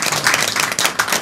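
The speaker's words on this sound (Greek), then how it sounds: "ένα χειροκρότημα παρακαλώ για τον πατέρα Νεκτάριο." Studio audience applause on a Greek TV talk show welcomes a guest, a dense, steady patter of many hands clapping close by with no voices over it.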